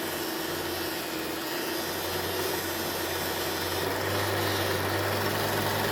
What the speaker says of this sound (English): get my small sander, get a finer grit, sand it off